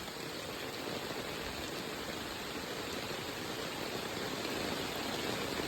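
Heavy monsoon downpour in the Konkan region, a dense, steady roar of rain that stays loud and unbroken throughout, with no voices.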